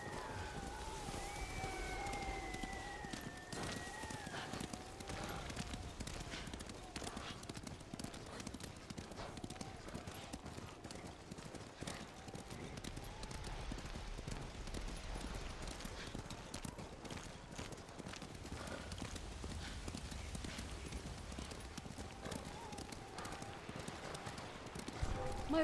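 Horse hooves clip-clop steadily through the Ghost of Tsushima video game world, a continuous rhythmic trot with wind, while characters talk over it.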